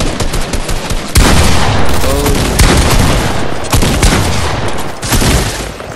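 Shotgun fire in the video game Fortnite: a handful of loud, sharp booms spaced roughly a second or more apart, set against a dense, noisy battle background.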